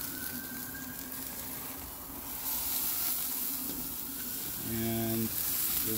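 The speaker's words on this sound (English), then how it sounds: "all we really have to do is finish grilling it up" Beef short ribs sizzling on a grill, a steady hissing crackle that grows louder partway through, with a short tonal beep near the end.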